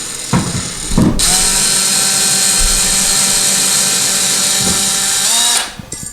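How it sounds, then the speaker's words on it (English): An electric screwdriver backs out the screws of a bathroom towel bar: a couple of short clicks, then a loud, continuous high whine for about four seconds that stops abruptly. "You can do it with your Phillips head screwdriver, or you can do it with your electric screwdriver"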